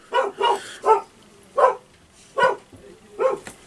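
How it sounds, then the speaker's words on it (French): Several dogs barking excitedly in a series of sharp, evenly spaced barks, fairly close and loud, with short pauses between them and no talk. "Les chiens s'affolent."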